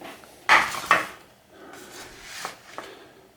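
A knife cuts through soft boiled octopus on a board, with two sharp close knocks of the blade followed by fainter taps and scraping.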